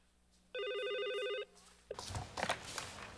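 In a Korean TV drama scene, a telephone rings once with a bright, warbling electronic trill lasting about a second. Rustling movement and a voice follow as someone picks up the receiver.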